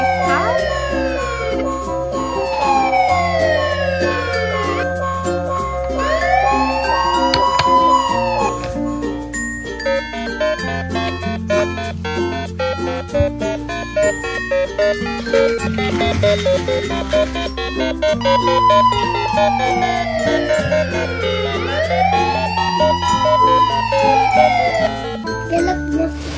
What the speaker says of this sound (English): What is this? Police car.